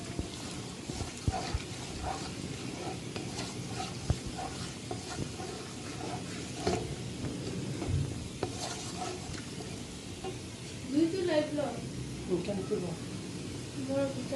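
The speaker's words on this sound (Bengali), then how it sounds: "পেঁয়াজগুলোকে একটু নাড়া দিয়ে নিচ্ছি।" Onions being stirred in a pan for yakhni pulao in a home kitchen, with a soft scraping and a low sizzle running under a person talking throughout.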